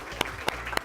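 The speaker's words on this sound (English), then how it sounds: "let's give them a round of applause too." Brief audience applause at a Science Bowl quiz competition, a short burst of clapping with a few sharp, distinct claps standing out, heard alone.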